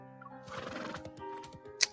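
A horse neighs in the video game Love and DeepSpace: a short whinny followed by a quick run of clip-clop hoofbeats and a sharp click at the end, all moderately close, with no speech.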